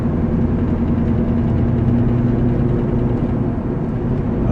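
A 1998 Ford Mustang GT with lowered suspension drones steadily while driving, a low rumbling engine note heard from inside the car, even and continuous with no talk.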